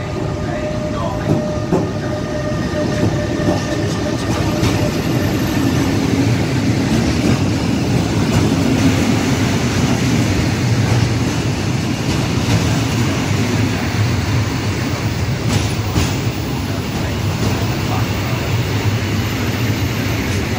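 Freight and passenger trains roll through Voghera station in Italy, a loud continuous rumble of wheels and cars with faint rail clatter that runs unbroken throughout.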